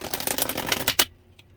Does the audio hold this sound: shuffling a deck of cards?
yes